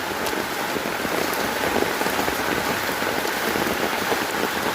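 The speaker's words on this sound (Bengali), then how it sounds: "বৃষ্টি হইতেছে, খালি বৃষ্টি আর বৃষ্টি, কোনো কথা নাই।" Heavy rain pours onto floodwater covering streets and homes in Senbag, Noakhali, a dense, even hiss of drops splashing on the water surface, steady and close with no voices.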